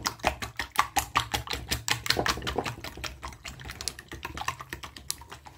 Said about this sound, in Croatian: dodajem 2 cela jajeta kao što vidite i njih ću lijepo umutiti